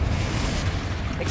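Confringo fire spell exploding in Hogwarts Legacy, a heavy rumbling blast with deep low-end roar that fills the moment and holds at loud, even level without trailing off.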